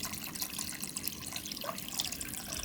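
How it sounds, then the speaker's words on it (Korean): Rice water pours into a pot for spinach soybean-paste soup, a quiet, continuous splashing trickle with bright watery bubbling throughout. "쌀뜨물을 부어주세요."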